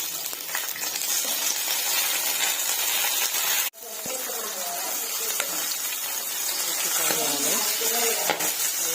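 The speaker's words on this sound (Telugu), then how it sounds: "ఆయిల్ హీట్ అయ్యాక అవి పచ్చిమిర్చి వేసుకున్నాను." Green chillies sizzle and spit in two spoons of hot oil in a kadai, a steady close frying hiss with a brief break partway, then crackling resumes with a few light clinks.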